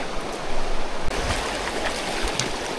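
A jungle river flows steadily nearby, a broad rushing wash of water with faint gurgles throughout.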